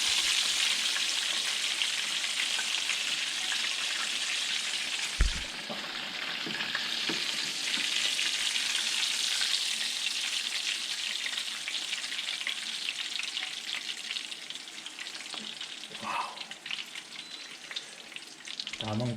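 Crispy pork chops deep-frying in hot oil, a dense continuous sizzle and crackle heard close up, with a couple of sharp clanks and stirring knocks partway through and near the end.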